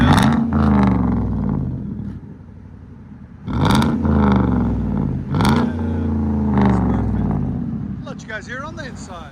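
The 5.3L V8 of a 2014 Chevy Silverado with true dual straight-pipe exhaust idles loudly and is blipped several times, each rev dropping back with a rough crackle, while someone talks over it.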